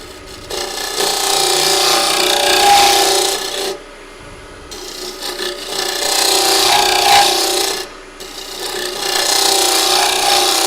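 Half-round negative rake scraper cutting a wooden yarn bowl on a lathe, a loud, steady rasping scrape that runs in three long passes with brief quiet breaks between them.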